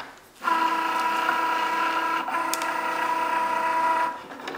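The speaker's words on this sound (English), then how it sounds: "now it's cutting out the design on the front of the card" A Cricut Joy cutting machine slicing a card design, heard as a steady close mechanical whir with a tonal motor hum lasting several seconds, briefly dipping midway before stopping.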